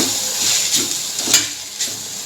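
Noodles tossed and stirred with cooked vegetables in a hot pan sizzle softly, with a steady frying hiss broken by a few scraping stirs of the utensil, close and without talk.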